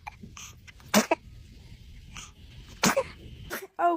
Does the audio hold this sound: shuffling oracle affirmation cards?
no